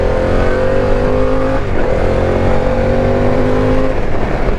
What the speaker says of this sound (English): There's a really nice growl to the engine.